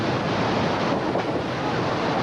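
Water pours over a rockwork weir on a river raft ride at a theme park, a steady loud rushing wash with no breaks, heard close up.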